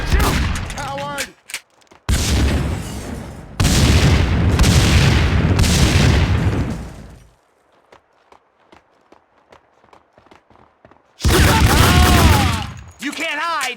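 Loud bursts of gunfire and booming blasts in the shooter game Max Payne 2, several sustained volleys separated by a quiet stretch of faint clicks and footsteps.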